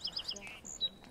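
Song sparrow singing nearby in Birch Bay State Park: a short burst of crisp, high chirping notes and a thin whistled tone, close and fairly clear over faint background.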